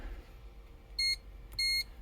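Two short electronic beeps from a continuity tester touched to model train wheels on a 1980s Lionel American Flyer Alco diesel, clear and close over a faint background hum.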